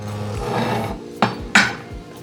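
A knife cuts through food on a cutting board while Japanese oyakodon is prepared, giving a few distinct thuds and sharp knocks against the board amid low kitchen rumble.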